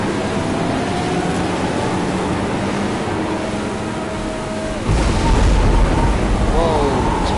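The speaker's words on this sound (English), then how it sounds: "Whoa, it's thundering." Thunder rumbling during a rainy powerboat race in the Riptide GP: Renegade video game, a low continuous roar that swells louder near the end over steady engine and water noise, with no talk.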